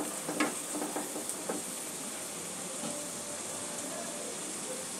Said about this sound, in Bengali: প্রয়োজন হলে একটু জল দিয়ে মশলাটা কষে নিতে পারেন।